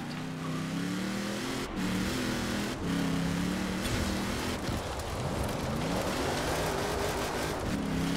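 A Hoonigan Ford RS200 rally car drives in Forza Horizon 4, its engine droning loud and continuous with repeated rising revs and gear shifts throughout.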